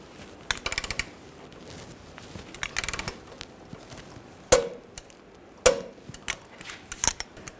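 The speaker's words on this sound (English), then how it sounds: "I'll tighten this nut and bolt down. And we'll torque this to 177 foot-pounds." A torque wrench tightens a nut and bolt on the rear lower ball joint of a 2006–2010 BMW 550i, giving clusters of quick ratcheting clicks and a couple of sharp metallic knocks, near and fairly quiet, with no talking.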